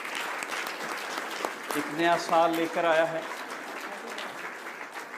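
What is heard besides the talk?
congregation applauding in church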